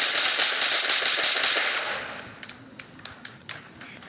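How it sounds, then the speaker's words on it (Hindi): Automatic gunfire rattles in PUBG New State on the Erangel 2051 map. A loud, dense burst fades over about two seconds, then several sharper single shots and taps follow, spaced apart. "यहाँ इधर ही बंदा फायरिंग कर रहा है"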